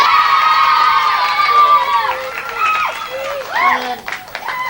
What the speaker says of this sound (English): So let's give a big round of applause, please.